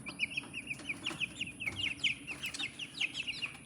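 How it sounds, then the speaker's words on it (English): A cage of eleven young chickens gives off a steady run of quick, high clucks and peeps, close by and fairly quiet over a low, constant background hum. "I have 11 chickens."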